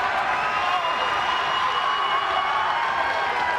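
An arena crowd at a TNA wrestling match roars and cheers continuously, a dense, loud wash of crowd noise with no pause.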